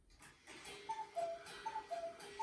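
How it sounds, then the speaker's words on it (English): Mechanical cuckoo clock ticking in a room where model toy locomotives are being compared, a steady run of faint, evenly spaced ticks over quiet background. "Excuse the cuckoo clock there."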